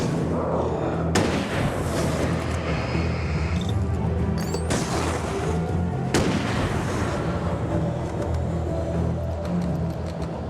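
Gunfire in the video game Alan Wake, a few loud, sharp booming shots spaced seconds apart over a dense, rumbling game soundscape.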